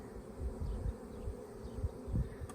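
A honeybee swarm buzzing as the bees march into a hive, a dense, steady low drone of many wings close by, with soft pulsing swells and no voices.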